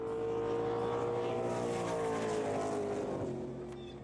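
Drag racing cars roaring along the Gimli landing strip, a converted airfield runway, with a loud, steady engine drone and shifting harmonic tones that ease off near the end. No voices.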